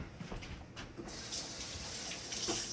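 Kitchen tap water running into a sink to rinse hands after cracking eggs, a few soft handling sounds and then a steady close gush of water.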